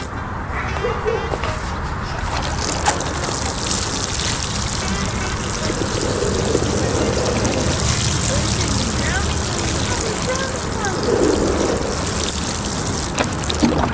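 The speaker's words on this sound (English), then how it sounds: "watch me pour some water over it" Water poured over soil in a spring garden planter, a continuous trickling and splashing wash held steady throughout, close by, with a voice speaking over parts of it.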